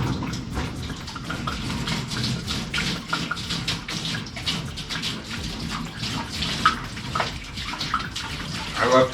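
Clean water pours from jugs into a parts wash stand, a continuous splashing gush with uneven surges and a voice talking over it.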